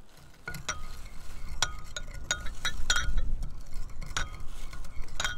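MSG is stirred into shrimp paste in a container, with a spoon clinking and scraping against the sides in irregular taps and light scrapes, close up.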